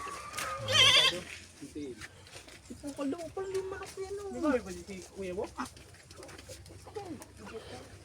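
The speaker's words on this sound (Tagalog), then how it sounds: "Kambing." A goat bleats once, loud and close, then a voice keeps talking with farm sounds in the background.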